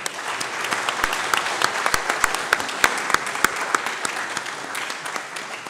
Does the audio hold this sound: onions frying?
no